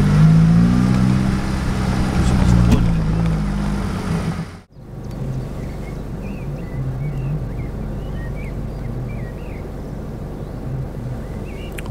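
A car drives off the highway onto a road toward a canyon in Dagestan, its engine and tyre roar steady and close, with a brief dip partway through before the drone resumes.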